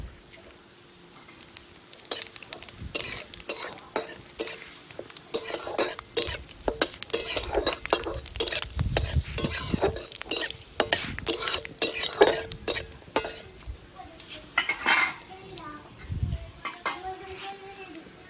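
Whole cumin seeds fry in a pan while a spoon stirs them, giving a steady near sizzle broken by repeated metallic scrapes and clinks, with some voices at times.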